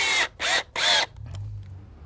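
Power drill driving two wood screws to mount low-voltage outdoor lights: three loud whirring bursts close up, each under a second, with short pauses between and a low hum afterward.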